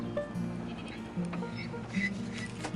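A goat on a farm bleating in short, repeated calls, moderately close, with faint animal and outdoor noise around it.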